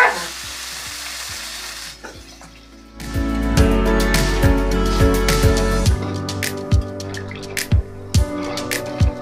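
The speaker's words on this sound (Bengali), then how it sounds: "এবার ঝোলের জন্য জল দিয়ে দেবো।" Water poured into a pan of spiced rohu fish and taro curry, the quiet frying bursting into a loud, sustained sizzle and bubbling with spluttering pops.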